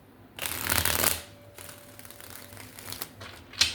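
Tarot deck shuffled by hand in close, crisp bursts, a loud riffling flurry followed by softer intermittent card flicks and taps, with a brief sharp snap at the end.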